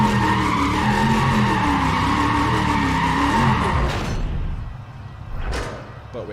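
Tires skid and screech steadily in Need for Speed, a loud continuous squeal with smoking wheels that fades out, followed by a couple of sharp knocks near the end.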